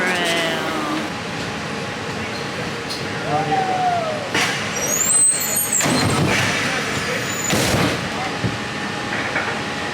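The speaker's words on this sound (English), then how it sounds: "I think it just pulled in. So let's go jump on. And there's our ride, folks. The monorail." A Disney monorail train at a Magic Kingdom station, a broad rumbling rush with squealing and hissing as it comes in, heard amid crowd noise and talking.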